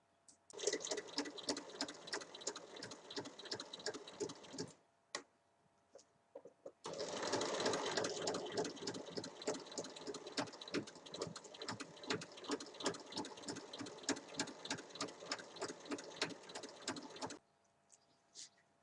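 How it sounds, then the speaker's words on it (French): A sewing machine stitches along a marked line on patchwork fabric and lining, running in fast, steady mechanical bursts with a short pause midway before a long continuous run. "Et il faut venir piquer sur le trait."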